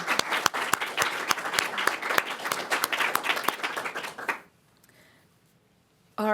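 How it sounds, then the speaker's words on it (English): An audience at a poetry reading gives sustained applause for about four seconds; it then cuts off abruptly into near silence. "Can we give Elissa another round of applause?"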